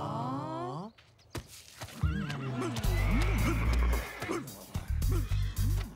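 Horses whinny and neigh loudly in repeated bursts at close range, with hoof clip-clop and brief voices mixed in among the calls.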